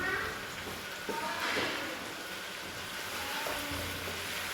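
Steady sizzling of chopped ginger, garlic and green chilies frying in a pan, with a few soft stirring scrapes, continuous and close, no voices.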